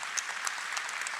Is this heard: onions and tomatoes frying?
no